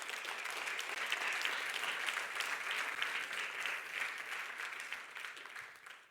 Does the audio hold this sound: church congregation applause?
yes